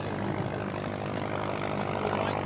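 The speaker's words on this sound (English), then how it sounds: "Ladies and gentlemen, that's Paul Stone in the Bristol Boxkite" Engine and propeller of a Bristol Boxkite vintage biplane, a loud continuous droning buzz with a steady tone heard close and unbroken.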